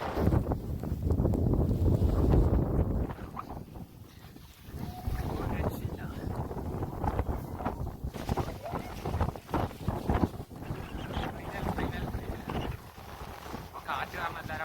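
Strong wind on the Ranipuram hilltop in Kasaragod, Kerala, buffeting the microphone in loud gusts that swell and ease across the whole stretch.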